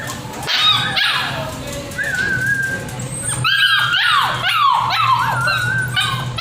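Puppies offered for sale, including Lab, German Shepherd, Beagle, Shih Tzu, Pug, Toy Pomeranian, Lhasa, Husky, Boxer and Mastiff, bark, yip and whimper continuously at close range, with several high, whining cries overlapping over a steady low hum.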